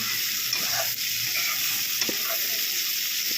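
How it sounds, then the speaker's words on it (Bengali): Pointed gourd pieces fry in hot oil alongside a naga chili, giving a steady close sizzle with a few soft stirring scrapes and no voices. "পটলগুলোকে লাল করে ভেজে নেওয়া হবে"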